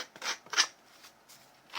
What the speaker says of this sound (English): I just use scissors